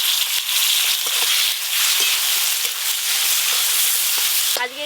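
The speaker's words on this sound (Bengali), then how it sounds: "পেঁয়াজ কুচি আর টমেটো কুচি একসঙ্গেই দিয়ে দেব।" Chopped onion and tomato fry together in a pan with a loud, continuous sizzle and hiss. Faint scraping and stirring taps come through now and then, and a brief voice is heard at the very end.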